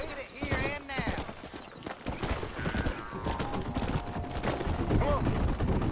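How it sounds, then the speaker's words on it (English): Many horses clatter across a bridge in the Red Dead Redemption video game, with busy overlapping clip-clop hoofbeats, occasional whinnies and game voices talking throughout. "Probably shouldn't have this many horses on a bridge at the same time."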